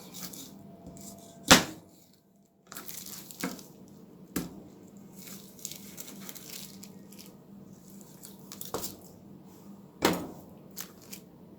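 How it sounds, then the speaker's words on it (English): A knife cuts a raw chicken leg quarter into two pieces on a board, a few sharp isolated thunks and soft wet squishes spaced apart in a quiet kitchen. "I'm cutting this leg quarter into two"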